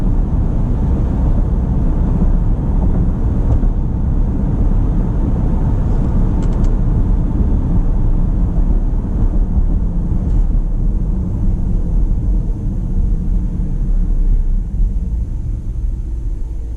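A steady low rumble of a 2019 Dodge Durango R/T AWD engine and road noise while cruising at 55 mph in eco mode, unchanging and continuous with no talking.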